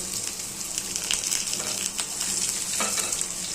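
Chopped onion hisses and sizzles steadily in hot oil seasoned with a pinch of ajwain, for a village-style dish of crumbled leftover bhakri, with a few soft stirring clicks close by.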